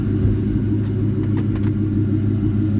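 A 1971 Ford Torino GT Cobra with a 351 four-barrel V8 idles steadily, a deep, close, continuous low rumble that holds even throughout with no revving.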